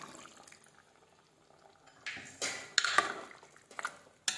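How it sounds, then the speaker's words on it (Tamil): Water poured into a pan of country chicken curry with fried onions, a quiet start giving way to a louder gurgling splash and sizzle in the second half, with no talking. "தண்ணி நம்ம வந்து ஊற்றிக்கணும்."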